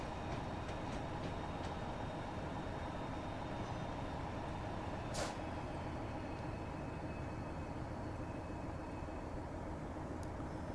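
A train rumbles steadily in a train simulator on the Huddersfield Line, a continuous low roar with faint clicks and one sharp brief hiss midway, with no talk.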